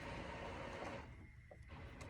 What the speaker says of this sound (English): my printer is trying to print out a pattern, and it's taking its own sweet time